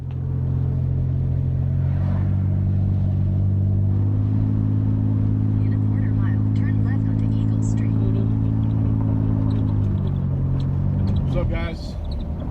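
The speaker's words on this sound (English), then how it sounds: "I'm going to go ahead and jump in the truck" Pickup truck engine idling and pulling away on a South Baltimore street, a steady low rumble that stays loud and close throughout, with some light revving near the end.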